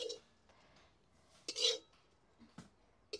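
Sautéed moringa leaf chutney is moved into a serving bowl with a few quiet, brief clinks and scrapes of utensil against dish, spaced out over a few seconds.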